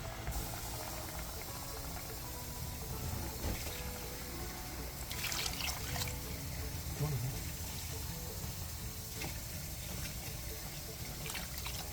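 Two and a half cups of water pour into a simmering Moroccan lamb and garbanzo stew pot, a continuous splashing trickle that runs over a bubbling, sizzling background.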